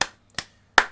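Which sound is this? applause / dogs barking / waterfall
applause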